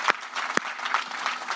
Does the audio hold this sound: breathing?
no